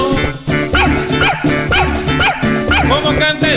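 A voice imitates a dog's bow-wow barks in a steady, rhythmic run within a lively Colombian campesino folk song, with music playing loudly throughout.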